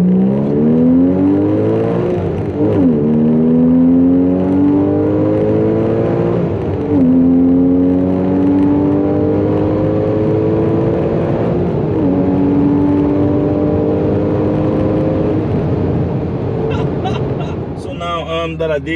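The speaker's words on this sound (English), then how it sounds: "For this engine to scream, you have to cross 5000 RPM." Porsche 981 Cayman S flat-six climbing through the revs past 5000 RPM, several rising engine sweeps broken by gear changes, loud and close from inside the car, with someone talking over it.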